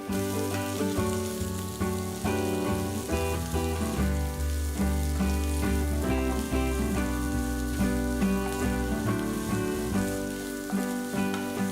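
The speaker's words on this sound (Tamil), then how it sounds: "ஒரு பேனில் கொஞ்சமாக எண்ணெயை ஊற்றி ஒரு பெரிய வெங்காயம் மெலிசாக நறுக்கினது இதில் போட்டு பொன்னிறம் ஆற வரைக்கும் நல்லா வதக்கணும்" Oil sizzles and crackles steadily in a pan as thinly sliced onions fry until golden, a constant hiss with no voices.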